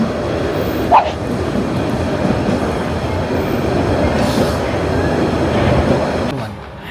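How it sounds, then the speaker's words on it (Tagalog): A train on the Paris to Lauterbrunnen route rumbles steadily in a continuous wash of rolling noise, with a brief squeal near the start. "So, yan train."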